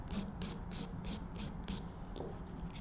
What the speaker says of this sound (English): So long strokes. Use all your file.